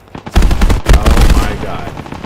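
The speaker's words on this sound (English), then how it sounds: "the German machine gunner was faster" A German machine gun fires in the World War II shooter Squad 44 on the Driel map, a loud burst of rapid shots with some speech underneath.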